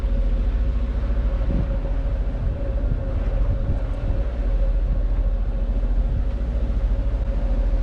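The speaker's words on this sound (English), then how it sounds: "By now the wind has completely disappeared, so we are running on our engine." A sailboat cruises under engine power near Sint Eustatius in calm, windless conditions, its motor giving a steady, loud, low rumbling drone with an even hum throughout and no voices.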